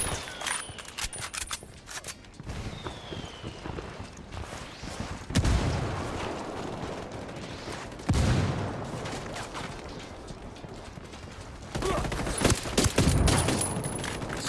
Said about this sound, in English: Rebel mortars are incoming.